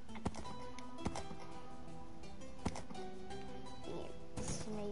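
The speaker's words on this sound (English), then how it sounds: "Uh-oh, horse." A few scattered hoof clops from a horse in Minecraft sound over a constant game ambience, with a faint voice near the end.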